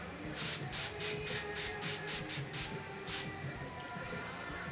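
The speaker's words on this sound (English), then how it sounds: "I'm going to be taking this and just spraying it all over my face" Thermal water misted onto a face from a spray can, about a dozen short hissing bursts in quick rhythm followed by one last spritz, close and fairly quiet with no talking.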